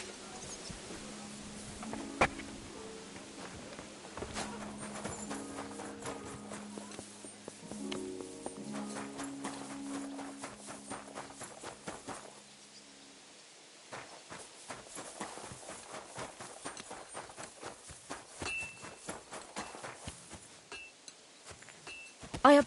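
A horse's hooves clip-clop in a quiet, steady walking rhythm in the medieval game Kingdom Come Deliverance 2, faint and close, with soft music fading in the first half.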